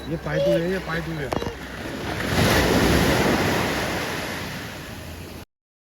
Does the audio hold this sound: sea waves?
yes